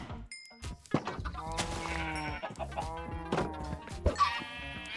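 In a fossils and archaeology video game, a chicken clucks and a sheep-like bleat mixes with short game chimes, moderately loud against a quiet background.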